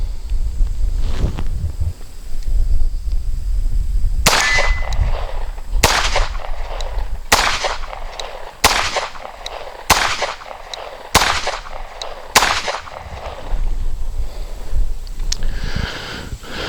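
A DoubleStar C2S custom 1911 .45 pistol fires 230 grain ball ammunition at a steel target about 20 yards away. Eight loud, sharp shots come at a steady pace about a second and a half apart.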